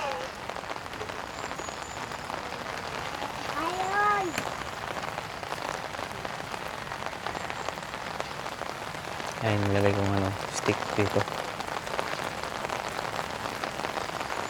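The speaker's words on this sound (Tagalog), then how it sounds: "Dahil sa lakas ng ulan." Steady heavy rain hisses throughout at a campsite at the foot of Mount Arayat, filling a bucket, with a person speaking briefly and some clattering knocks partway through.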